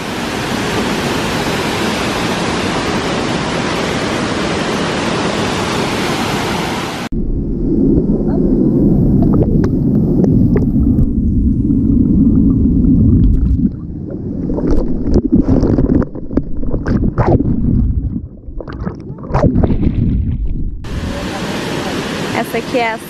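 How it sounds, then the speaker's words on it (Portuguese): Rushing water from the Cachoeira Charmosa waterfall at Ceita Corê in Bonito, loud broadband noise at the start, then a quieter stretch with splashing and movement, and the full roar returning at the end. "Essa é a Cachoeira Charmosa da Corê."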